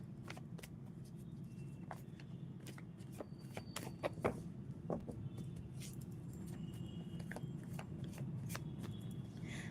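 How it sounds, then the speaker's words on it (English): A deck of tarot cards being shuffled during a live reading: soft, scattered papery riffles and taps over a steady low background hum, with no voice. "as I am shuffling the deck, I can feel that it's getting heavier"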